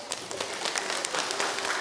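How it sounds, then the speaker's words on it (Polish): Audience applause at a church Lenten retreat, a steady dense patter of many hands clapping continuously, moderately near, with no voices over it. "Ogromne brawa."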